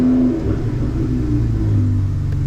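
A car engine idles after a warm start following a touchless car wash, a steady low rumble with slight revving close by and no talk over it.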